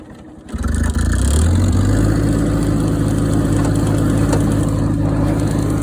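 Cub Lo Boy 154 tractor engine starts up and runs steadily under load while pushing dirt near young pine trees, a loud, close, continuous mid-pitched drone with slight revving and no talk.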